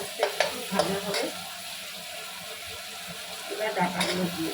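A fish head and onion fry in a pan with a soft sizzle, broken by a few scraping stirs near the start and again near the end.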